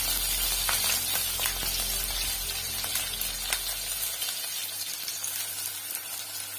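Cumin, green chillies and ginger-garlic paste sizzle in hot oil for soya chunks biryani, a steady close hiss with faint crackles, while a low hum drops away partway through.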